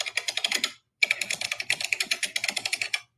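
Rapid typing on a computer keyboard, close and crisp, with clustered clicky keystrokes in two bursts separated by a brief pause.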